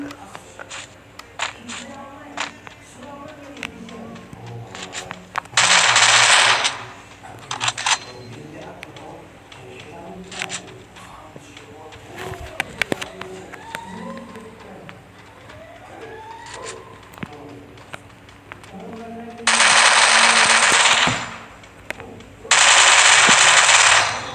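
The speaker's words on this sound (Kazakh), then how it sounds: "Қалай атып жатыр, достар?" Free Fire battle royale gameplay fills the stretch with scattered gunshots and rattling bursts of automatic fire, plus several long loud blasts of dense firing, while voices talk in between.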